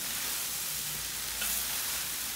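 Rice carreteiro ingredients stirred slowly with a spoon on a plough disc over a wood fire, giving a faint steady sizzle and hiss with gentle scraping and one small clink at the end.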